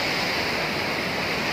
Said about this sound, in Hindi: ये बॉटम ऑफ द वाटरफॉल है